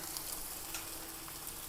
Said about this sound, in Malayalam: ചാറൊക്കെ തിളച്ചിട്ടുണ്ട് കേട്ടോ